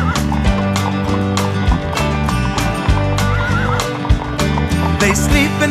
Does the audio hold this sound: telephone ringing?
no